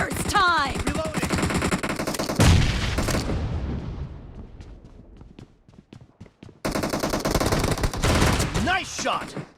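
Shotgun fire in an arena deathmatch in PUBG Mobile, with rapid loud blasts and rumbling decay, a pause, then another dense stretch of firing, with a short voice-like sound under the shots.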